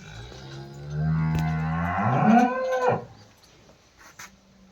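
A dairy cow bellows one long, loud moo nearby at a livestock sale among milking cattle, rising and swelling before trailing off, with faint farmyard noise after.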